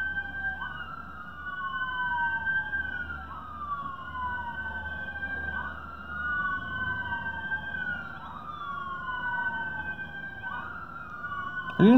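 Several police patrol cars sound their sirens together at a moderate distance, with repeated sweeping wails overlapping in a steady cycle for the whole stretch over a low traffic rumble.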